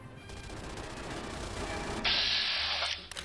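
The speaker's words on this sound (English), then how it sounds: "Nope, it's all Gatling guns." Sustained, dense Gatling gun fire in Fallout: New Vegas forms a steady mechanical roar, joined near the end by a brighter, harsher burst.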